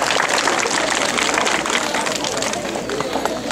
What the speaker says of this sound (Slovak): To si zaslúži potlesk.